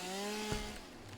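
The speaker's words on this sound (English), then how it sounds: "A little dramatic for a chainsaw" A chainsaw cuts through small trees, its engine holding a steady buzzing drone at close range, with a brief thump of wood partway through; no voices.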